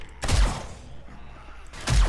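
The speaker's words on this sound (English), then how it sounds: "Who are you shooting at? Don't waste your ammo." Two heavy gunshots from the survival video game 7 Days to Die, spaced about one and a half seconds apart, each a loud close boom with a low thump and brief decay.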